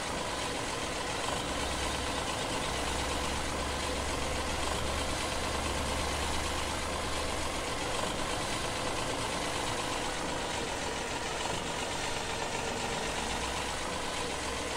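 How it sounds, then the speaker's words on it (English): A farm tractor engine runs steadily near the listener, a continuous low rumbling drone that holds without pause and with no talking over it. "Nonetheless, the tractor is doing a grand job."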